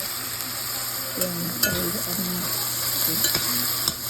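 Chicken for tinola being added to a pot and stirred, a loud steady sizzle with scattered spoon scrapes and clinks against the pot, close up, with no voices.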